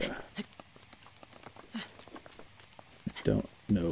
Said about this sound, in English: Causing the rain in this area.